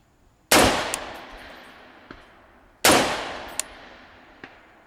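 A gas-operated rifle fitted with a muzzle brake fires two loud, sharp shots a couple of seconds apart, each trailing off in a long ringing decay, with faint later pings and no voices.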